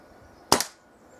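A single sharp crack from a Kral NP02 air rifle fired at a target, with a short double peak and a brief tail above steady low background noise.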